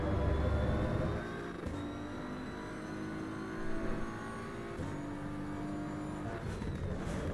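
A BMW GT3 race car driven in the Assetto Corsa EVO racing game holds a steady engine whine that shifts pitch through gear changes, loud at first and then settling into a continuous drone.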